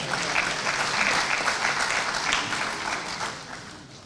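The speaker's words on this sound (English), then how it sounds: "Please give him a round of applause." An audience at an association's annual general meeting in Abuja gives a sustained round of applause, dense steady clapping from a full room that tapers slightly toward the end.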